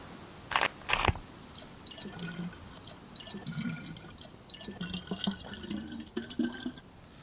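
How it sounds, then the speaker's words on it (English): Water splashes and drips as a water bottle is filled at a water source in the DayZ video game. Two sharp splashes come first, then an uneven run of trickling, gurgling drops with no voices. "fill up your water bottle and fill up your stomach"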